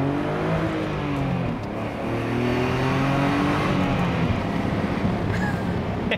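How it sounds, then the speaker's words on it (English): A BMW E34 525i pulls away hard from a standstill, its engine note climbing through rising revs, easing briefly, then building again in a loud, continuous sweep heard from inside the car. "Let me accelerate from 0 and show you a little bit of emotion. Just a quick pull."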